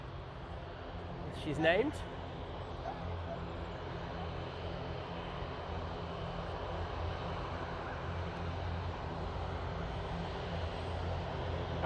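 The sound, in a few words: aircraft taxiing at Manchester Airport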